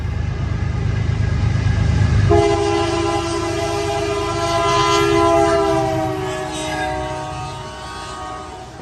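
A long CN freight train carrying military equipment rolls past close by, a steady loud rumble of wheels and cars with a sustained horn blast sounding over it for several seconds.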